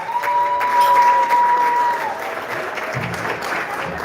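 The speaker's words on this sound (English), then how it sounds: "How about a big round of applause?" Applause fills the room at a wedding reception, a steady dense clapping from the guests that holds for the whole stretch and eases slightly toward the end.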